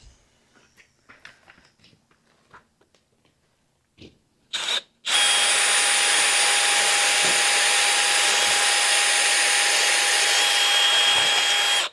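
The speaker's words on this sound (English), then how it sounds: "let's drill this and get right to it" A few soft clicks and handling noises, then a power drill whirs up loudly and runs steadily at high speed until the end.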